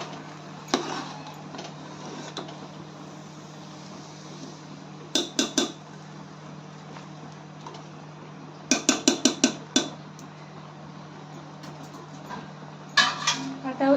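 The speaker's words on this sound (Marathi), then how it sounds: "आपण याच्यावरती एक प्लेट बंद करून ठेवून गॅस मंद आचेवर चालू ठेवणार आहोत" Metal and ceramic clatter as a plate is set as a lid over a pan of jaggery and dal on a low gas flame, with a few sharp clinks in short clusters over a steady background hum.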